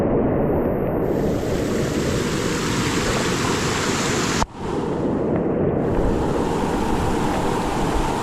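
Roaring rush of a large, swollen river, loud and continuous throughout, with a brief dip midway and a steady broadband wash like heavy surf and wind buffeting the microphone.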